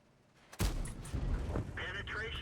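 A tank cannon in a video game fires a shell, one sharp, loud blast that rolls into a rumbling tail, followed by game sounds and someone talking over it.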